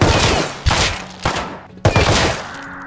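Pistol gunfire in Rust rings out in loud, close sharp shots, three or four distinct reports with echoing tails and short gaps between them.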